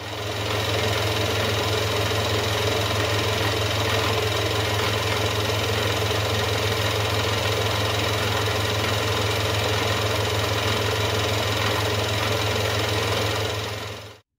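A metal lathe turning crank webs for a small V-twin engine, a steady, unchanging motor hum with a strong low drone and a dense mechanical whir throughout, close and constant, no talking.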